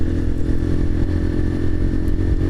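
A motorcycle out on the road, its engine droning at a steady, fairly loud pitch with continuous rumble and wind, close to the rider and with no talking.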